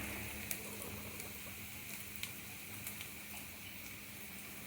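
Onion and cluster beans frying in a pan, giving a soft, steady sizzle with faint ticking pops throughout.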